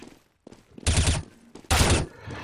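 Two loud gunshots ring out in a video game match, each a sharp burst a moment apart, with faint quieter noises before them.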